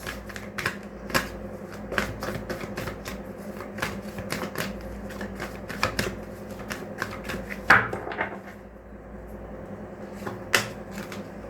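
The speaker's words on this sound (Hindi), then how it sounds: "चलिए और कार्ड्स लेते हैं" Tarot cards are shuffled and drawn in a series of close papery slaps, flicks and riffles at an uneven rhythm, with a faint steady hum underneath.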